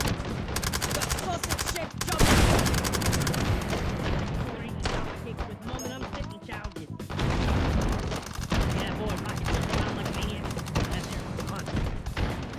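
Rapid gunfire cracks in Hot Dogs, Horseshoes & Hand Grenades in VR, loud, dense bursts of shots with a heavy blast near the start, running almost nonstop, with a voice speaking briefly over it.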